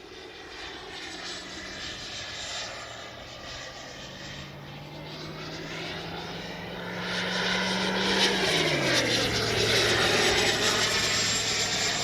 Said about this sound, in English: I'll take off again. Love that afterburner.